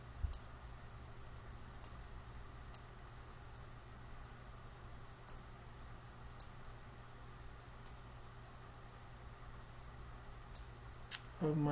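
Sparse, sharp mouse clicks, about eight spread over several seconds, soft and close against a low steady hum while marker options are edited in a chart program.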